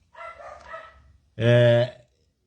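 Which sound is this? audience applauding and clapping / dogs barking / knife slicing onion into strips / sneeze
dogs barking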